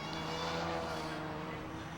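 Classic touring cars, including a Ford Anglia, racing at Brands Hatch, with a continuous engine drone heard from a distance and steady in level.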